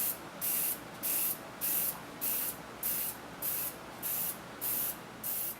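Spray gun applying a third coat of DuraCoat firearm paint: eight evenly spaced bursts of hissing spray, each about half a second long, separated by short pauses, close and steady with no talking.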